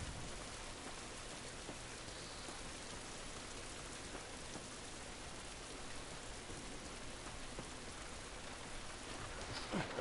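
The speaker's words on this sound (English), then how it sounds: "it's raining" Rainfall in The Last of Us pours down as a dense, unbroken wash of hiss and patter, holding a constant medium level for the whole stretch with no voices over it.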